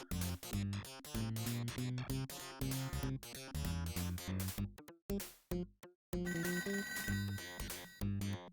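A telephone rings in the ToeJam & Earl video game, a bright electronic trill that rises out of bouncy chiptune music and repeats steadily near the end.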